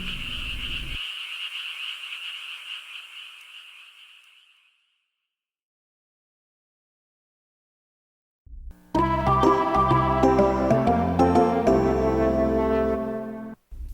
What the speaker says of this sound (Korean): 행복했던 연못 속 개구리 가족들은 매일매일 울기 시작했습니다.